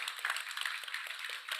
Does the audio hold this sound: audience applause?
yes